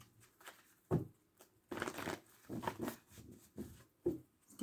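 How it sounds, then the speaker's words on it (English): Tarot cards are shuffled by hand during a reading, giving quiet, close, irregular riffling and slapping bursts that come in clusters with short pauses between them. "Get one more shuffle."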